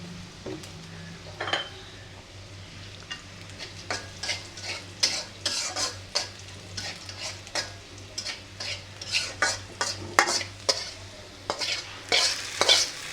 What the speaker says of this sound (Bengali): আর এখন ডালটা তেলে দিয়ে মশলা কষাই নিলে তাহলে লাউটা দিয়ে ভালো করে কষানো হবে।